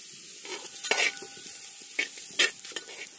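Onions sauté with green chilli and salt in a pan, making a low sizzle under intermittent scrapes and taps of a spoon stirring them, with a few louder strokes close by.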